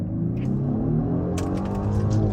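A 2023 Genesis G90 sedan accelerating hard from a rolling start: a low, smooth engine hum and rising drone heard from inside the quiet cabin, with faint rustling noises.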